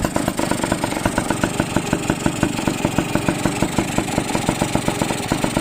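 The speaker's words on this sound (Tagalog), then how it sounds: "Tahimik makina yan oh." An overhauled motorcycle engine idles quietly and evenly, a steady rapid rhythmic putter heard close up and alone.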